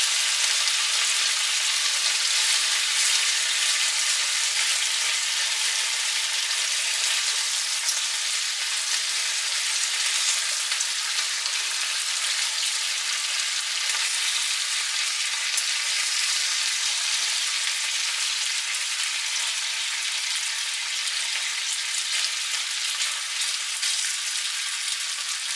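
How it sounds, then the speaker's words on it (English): Bacon sizzles in a frying pan with a steady, dense, loud crackling hiss that continues without pause and with no voices. "The sizzling is calm and collective."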